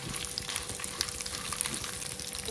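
Peanuts and dried chilies fry in a pan with a soft, continuous sizzle and faint crackles, quiet and close, steady throughout.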